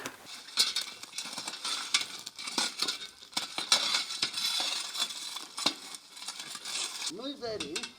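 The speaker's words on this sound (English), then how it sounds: "And in it goes, a bit of salt. Just give that a bit of a stir." Salted potato pieces fry in a pan with a soft sizzle while a utensil stirs and scrapes through them in irregular bursts.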